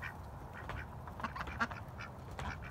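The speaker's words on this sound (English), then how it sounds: "Turkeys keep walking around up there, making noise." Faint turkeys gobble and chatter in a loose cluster of short calls, distant and scattered over a low outdoor rumble.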